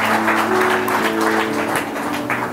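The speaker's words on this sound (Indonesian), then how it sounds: "Berikan tepuk tanganmu yang terbaik." A church congregation at a Sunday service applauding, a dense, steady wash of clapping from many hands that holds for a couple of seconds and then tapers slightly.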